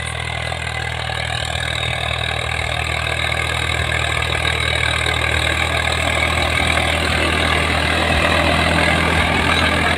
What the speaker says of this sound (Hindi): ट्रैक्टर देखो आ गया मेरे वीरियों